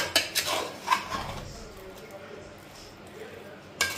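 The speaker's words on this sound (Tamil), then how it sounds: "இது இப்போ நல்லா நம்ம மிக்ஸ் பண்ணிக்கலாம்" A spoon scraping and clinking against a pot while bottle gourd vegetable biryani is stirred, with several sharp knocks early and at the end, heard under a person talking.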